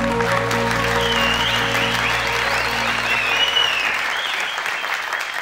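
A studio audience applauds steadily on an Afghan game show, with sustained dense clapping over a held musical tone that fades out partway through.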